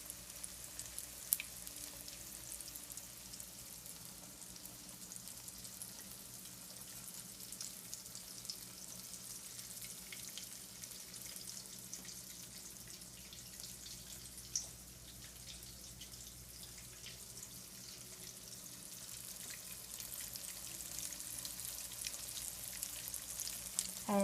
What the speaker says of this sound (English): you're just gonna place the pork chop on